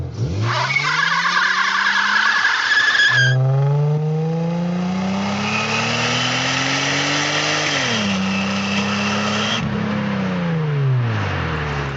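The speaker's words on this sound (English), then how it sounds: "The tires spin every single time you floor it at low speeds." Tires squeal and spin on a V6 Toyota Camry wagon under hard low-speed acceleration, loud and close, the engine note rising in pitch, dropping with a shift and climbing again.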